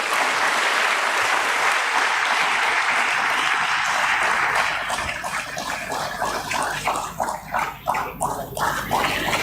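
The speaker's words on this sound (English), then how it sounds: "Let's give them a big round of applause." Big round of applause from the audience at a stock exchange listing ceremony for a car dealership company: dense clapping for several seconds that thins out into fewer, separate, louder claps near the end.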